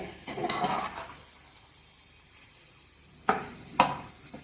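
Macaroni with vegetables stirred and mixed in a sizzling pan, a soft steady sizzle broken by several sharp scrapes and clinks of a spoon against the pan, close and fairly quiet.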